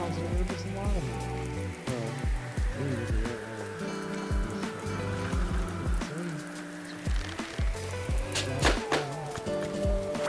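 Steady rain patters and drips in a video game, a dense continuous wash layered with game music tones and scattered sharp effects throughout.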